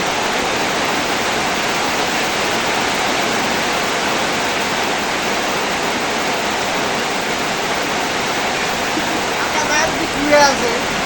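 Heavy rain pours down steadily in a rural setting, a dense, even roar close by and unbroken, with a faint voice briefly rising near the end.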